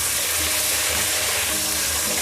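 Sliced potatoes frying in a pan of oil give off a steady, loud, hissing sizzle that runs evenly throughout, with no talking.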